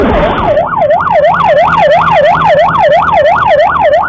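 A loud, close ambulance siren wails in a rapid rising-and-falling cycle, repeating steadily without pause, with traffic noise underneath.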